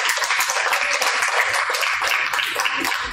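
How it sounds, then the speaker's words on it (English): A community development training event where the audience claps for newly trained builders: a short, dense burst of many hands applauding together, close and steady for about three seconds. "Give them a clap back."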